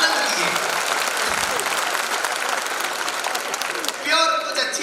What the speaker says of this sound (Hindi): तालियां ऐसी बजाओ कवि कहे क्या बात है